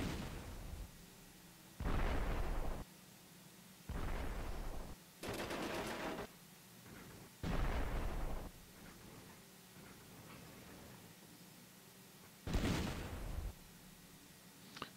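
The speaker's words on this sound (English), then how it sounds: "Do some damage with our artillery." Artillery fires in a North Africa tank battle game, heard as several separate loud bursts of booming fire at irregular intervals, with quieter battle noise between them.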